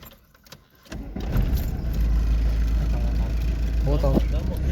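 A Volkswagen Vento turbo engine cranks and restarts after stalling, then settles into a loud, steady idle close by, with someone talking over the running engine.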